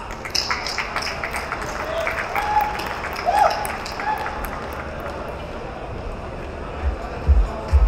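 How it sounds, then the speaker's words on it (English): Crowd applause welcoming a speaker on stage at Crypto Expo Dubai 2023, moderate clapping spread across a hall, thinning out toward the end as a few louder thumps come through close by. "Everybody, please welcome him with a huge round of applause."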